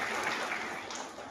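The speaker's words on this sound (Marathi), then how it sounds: "त्यांच्यासाठी टाळ्या सगळ्यांनी वाजवायच्या आहेत." Audience clapping at a women's day gathering, a brief steady burst of applause filling the whole moment.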